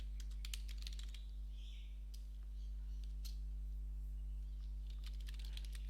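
Computer keyboard typing in quick, irregular bursts of clicks over a steady electrical hum, close and fairly quiet, with no voices.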